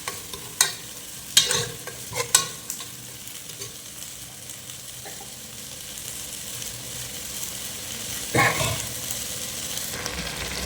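Tomato paste sizzles in a pan for a fried fish curry, a steady frying hiss broken by several sharp stirring scrapes and clatters near the start and again later, with no talking.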